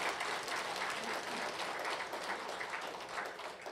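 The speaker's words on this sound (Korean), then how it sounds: "일단 박수를 한번 보내드립니다." A congregation at a Korean religious talk claps in sustained, dense applause that stays steady and fills the room for several seconds before easing slightly at the end.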